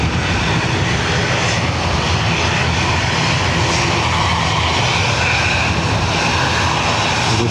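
Ryanair jet departing Dublin Airport, a loud, steady broadband engine roar with heavy low rumble, sustained close by throughout with no letup and no voices.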